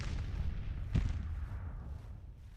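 Artillery in a Grand Tactician Confederate campaign battle fires from a distance: a single dull, heavy boom lands about a second in, over a low rumbling background, then fades away.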